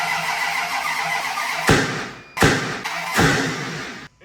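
An old truck engine cranks over on a jumper, firing in three loud, rough bursts separated by brief pauses, each catch sputtering and fading before the next attempt.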